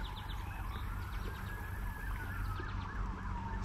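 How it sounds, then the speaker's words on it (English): Emergency vehicle sirens wailing in the distance at night near a lake where smallmouth bass are being fished, a rising and falling tone over a low steady rumble, with no talking. "Sounds like we got some sirens going on in the background."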